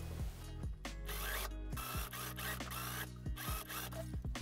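Sewing machine top stitching the lining of a Chanel-inspired jacket sleeve close to the edge: a steady, close mechanical whir with rhythmic stitching pulses and brief speed changes, running throughout with no talk.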